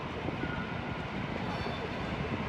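An empty service train rolls past at Warszawa Zachodnia station, a steady low rumble of wheels and wagons at moderate distance, continuous and without talk.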